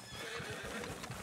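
A horse whinnies against a dense, noisy soundscape in Red Dead Redemption 2 Online, with faint clip-clop of hooves underneath.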